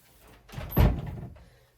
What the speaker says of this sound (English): Sorry, my cats keep opening my door.